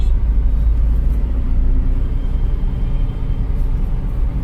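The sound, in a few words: car engine accelerating during driving lesson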